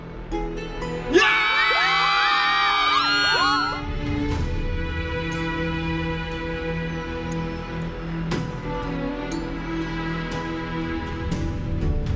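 Video game crowd cheering and whooping loudly for a few seconds, then fading into a sustained musical drone with a low murmur beneath.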